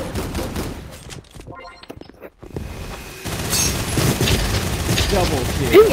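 Bursts of gunfire in the VR shooter Gun Raiders, with a couple of loud shots, a short lull, then sustained rapid firing and booms, mixed with game noise and a voice.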